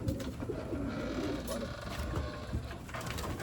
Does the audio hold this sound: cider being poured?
no